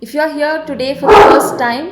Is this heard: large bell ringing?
no